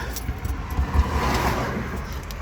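An old tow truck's starter spins without its Bendix engaging, a brief rising mechanical whir and rattle heard close and fairly loud, with no engine catching.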